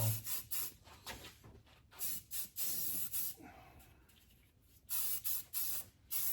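Coating sprayed onto a 1949-51 Mercury, heard as a series of short hissing spray bursts of varying length, close and fairly loud, with a quieter pause between groups.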